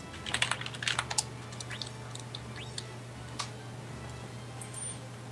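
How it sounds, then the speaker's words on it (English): A quick flurry of close keystrokes on a computer keyboard, clustered mostly at the start, then a few scattered clicks and taps thinning out over a low steady electrical hum. "Ooh, someone's a typing."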